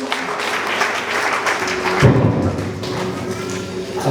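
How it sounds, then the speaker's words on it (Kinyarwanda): A congregation claps together during a church service, a dense run of hand claps with a louder surge midway, sustained and close. "amashyi kandi ku mwami Yesu"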